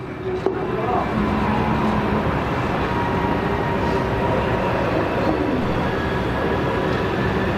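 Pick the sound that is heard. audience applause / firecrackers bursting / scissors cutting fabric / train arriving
train arriving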